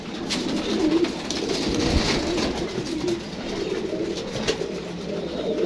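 Golden pigeons cooing at close range, with soft repeated throaty coos over a rustling background and no talking.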